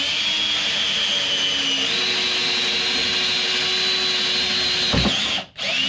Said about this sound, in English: gonna drill the hole